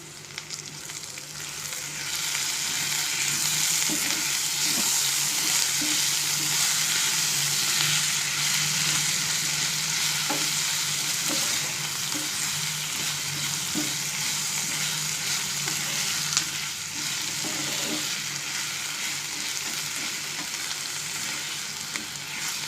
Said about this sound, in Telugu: ఇప్పుడు దీన్ని వేయించాలి